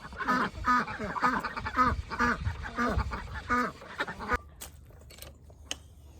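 Several ducks quack in loud, repeated bursts for a few seconds, then the calls stop and only faint clicks and rustles remain.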